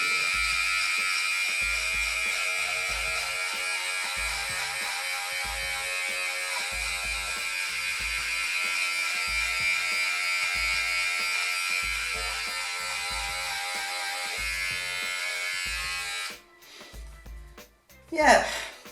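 A Babyliss Precision beard trimmer buzzes steadily and close up while trimming along a neckline, with its hum rising and dipping as it passes over the hair, then stopping abruptly near the end before a few handling sounds.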